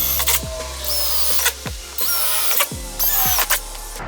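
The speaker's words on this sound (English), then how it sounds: "That way I can get my jigsaw blade down in there," A jigsaw cuts through a Sprinter van's metal roof between drilled corner holes, the blade buzzing in short repeated bursts with sharp starts and stops, loud and close.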